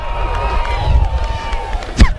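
A high school football crowd at a South Winn quarterfinal game roars and cheers after a kick, the noise swelling and staying loud, with a whistle-like tone drifting through and a sharp thump near the end.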